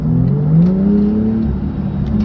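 A car in sport mode, with the Sport Chrono dial, drops a gear and its engine revs up, a loud, close, smooth rising drone that holds and eases slightly, with no voices.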